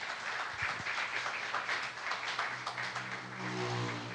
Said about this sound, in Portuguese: Uma salva de palmas ao Espírito Santo para mudar assunto.